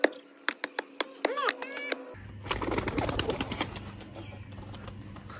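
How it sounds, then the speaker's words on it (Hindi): Pigeons burst into a flurry of flapping and startled calls, following a few sharp clicks and a short cooing sound; close and fairly loud. "डर गए कबूतर, डर गए"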